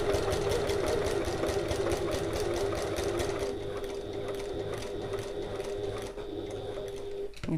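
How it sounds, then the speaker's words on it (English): A sewing machine stitches along a fabric edge for a passport folio, a close, steady motor whir and rapid needle chatter running continuously, easing slightly partway through, with no talking. "I'm going to sew 1/8 of an inch or 3 mil away from the edge."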